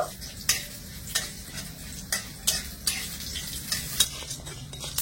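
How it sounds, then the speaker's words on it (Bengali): Whole spices frying dry in a pan (chana, urad and arhar dal with cumin, mustard seeds and a dried chilli), a steady close sizzle under regular spatula scrapes that come roughly every half second. "এবারে এই ফোড়নগুলো আমি একটু লাল করে ভেজে নেব।"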